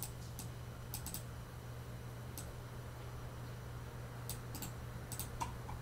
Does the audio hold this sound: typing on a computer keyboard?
yes